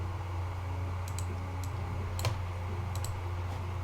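Keyboard typing is picked up by a sensitive studio mic, heard as scattered light clicks in short bursts over a steady low electrical hum, with no talking.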